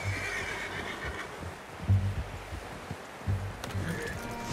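A horse in Red Dead Redemption 2 whinnies and snorts during a ride, with soft hoofbeats and rustling behind a few louder neighing bursts, close and moderately loud.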